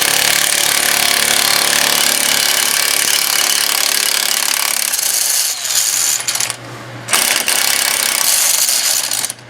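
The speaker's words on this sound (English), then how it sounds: "we decided to do this with power tools" A power tool works loose the front hub of a Cadillac DTS, a loud continuous grinding whir for most of the run, dropping out briefly near the end before surging back.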